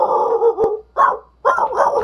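A dog in the horror game Five Nights at Candy's barks and whimpers in short bursts, three close, loud yelping clusters separated by brief gaps.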